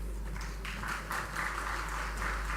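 An audience of municipal council staff at a government event in Indore claps steadily, a continuous wash of applause throughout with no pauses.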